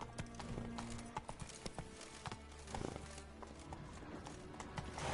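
Roach, a horse, gallops with fast, irregular clip-clop hoofbeats that stay close throughout, along with some snorting breath, and no one speaks over it.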